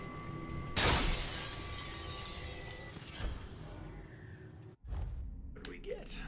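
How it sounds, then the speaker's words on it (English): Glass shattering in the stealth game Dishonored 2, a sudden loud crash with a bright spray of shards that trails off over a few seconds, followed by quieter in-game noises. "to muffle the sound of breaking glass"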